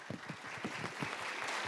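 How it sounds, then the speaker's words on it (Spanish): Audience applause at a panel presentation on elections in Mexico and the world, a steady wash of clapping through the clip alongside low voice-like sounds at the start, moderately loud and continuous. "gracias por los aplausos"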